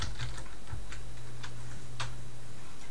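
Light, quick keystrokes on a computer keyboard while a login and password are entered, a sparse run of close clicks with short pauses over a low steady hum.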